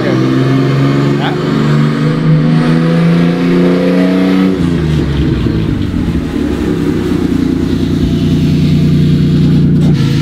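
A car engine with its exhaust system removed revs loudly, a raw, harsh roar that climbs, then drops in pitch midway and settles into a rough, rattling idle-like drone, with a voice talking over it.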